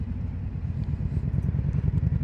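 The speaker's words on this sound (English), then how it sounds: "The Scout Bobber is really smooth. It's got a nice rumble to it." Low, smooth rumble of a matte red Indian Scout Bobber motorcycle engine with stock exhaust, idling steadily nearby with a slightly pulsing throb.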